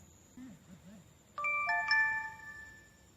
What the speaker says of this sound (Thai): ผมจะส่งลน์เข้าไปที่โทรศัพท์ โดยพิมพ์คำว่าทดทดสอบการแจ้งเตือนนะครับ